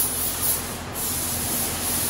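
A spray gun lays clear coat onto the steering wheel of a Peterbilt 389 truck, producing a steady, close, even hiss that dips briefly once before continuing.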